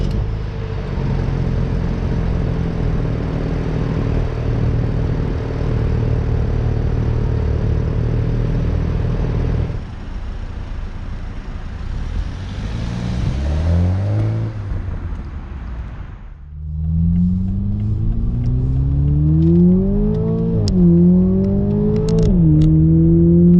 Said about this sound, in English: let's hit the start button